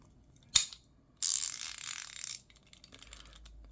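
A socket wrench ratchet, compared across ICON, SATA and Amazon Basics sets, gives a single loud click followed by a dense, rapid burst of ratcheting clicks lasting about a second, then fainter scattered clicks, close up with no talking.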